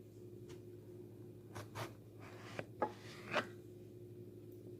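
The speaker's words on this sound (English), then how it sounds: "I'm going to cut them in half." Knife cutting rinsed zucchinis in half on a board, a few faint separate chops and thuds spaced a second or so apart against a quiet kitchen background.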